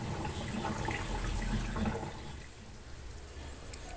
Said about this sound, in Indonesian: ini kita tunggu sampai airnya terbuang semuanya